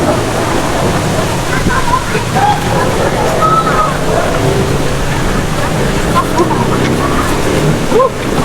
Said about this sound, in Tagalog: ang Pumalog Waterfall